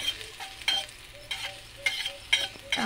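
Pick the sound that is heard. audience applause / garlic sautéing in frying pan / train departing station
garlic sautéing in frying pan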